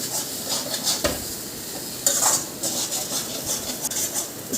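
Spices and chilli powder stirred into grated beetroot and moong dal fry in a pan: continuous loud scraping and rubbing of a spoon against the pan, with sharper strokes at intervals and no talking.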